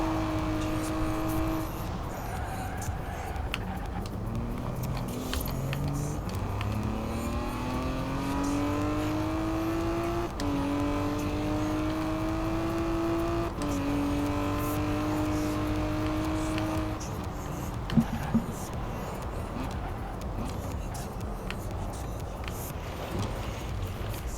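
A race-tuned, all-wheel-drive 1960 Aston Martin DB4 GT Zagato in a video game, accelerating hard off-road, its engine note climbing through several rising gear sweeps with loud, steady revving and a brief dip near the end.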